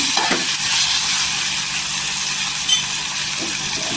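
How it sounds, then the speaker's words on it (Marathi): Ground spice paste sautés in a pan of oil for a spicy village-style potato curry. It makes a loud, dense, continuous sizzling hiss up close, with faint stirring scrapes and no voices. "वाटण इथे परतून घ्यायचं।"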